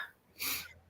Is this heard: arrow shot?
no